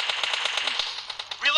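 Rapid automatic gunfire from PUBG Mobile gameplay, a fast steady stream of loud shots running through the whole moment with a brief pause near the end.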